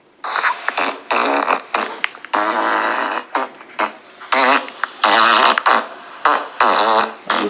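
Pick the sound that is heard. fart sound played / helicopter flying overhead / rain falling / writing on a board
fart sound played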